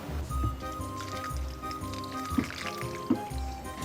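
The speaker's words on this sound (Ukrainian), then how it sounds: "Воду я злила, тепер просушу родзинки." Water that soaked raisins in boiling water is poured off them, giving soft liquid splashes and trickles with a few small squishy clicks, close and fairly quiet.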